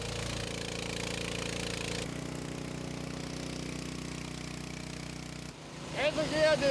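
A water-pumping motor drones steadily in a flooded alley with no electricity, a loud continuous mechanical hum that shifts pitch twice before a voice cuts in at the end.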